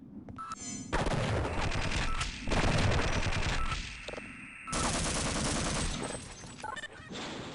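Rapid automatic turret gunfire in Half-Life: Delta Particles, loud sustained bursts separated by brief pauses, with blasts and impacts layered in over about seven seconds.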